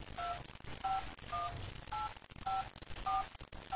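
Telephone keypad tones beep in a steady series, each short two-note dual tone separated by brief gaps, loud and close on a narrow phone line with no talking.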